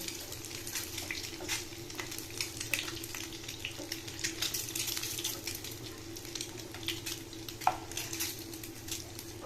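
Eggs fry in a pan for a mustard egg curry, turned to cook the other side, giving a soft, low continuous crackle with faint watery spatters and a few small pops.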